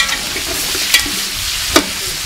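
Onions frying in a pot for a civet with pork trotters, a steady close sizzle with two sharp spatula scrapes or stirs breaking through.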